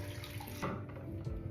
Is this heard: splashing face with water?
yes